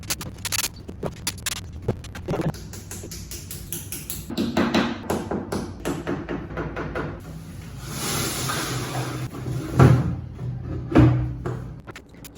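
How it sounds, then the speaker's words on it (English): A strip of wood being screwed to a wall, with a run of sharp taps and knocks, some grinding turns and scraping, fairly close and alone without talk. "I'm just screwing in the strip of wood that is supposed to be screwed to the wall"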